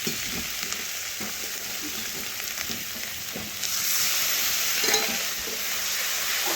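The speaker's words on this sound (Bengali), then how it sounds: "এখন খুন্তি দিয়ে ভালোভাবে মশলার সাথে মিশিয়ে একটু মশলা আমি ভেজে নিচ্ছি।" Spice paste fries in a pan while a spatula stirs it, giving a dense, continuous hiss that swells briefly midway, close up with faint scraping and no voices.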